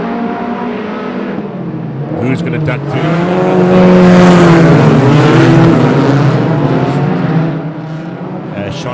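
Stock car engines roar from several cars racing together after the green flag at a Border Stockcars meeting, loud and sustained with rising revs and passing surges, beneath a commentator's voice over the track.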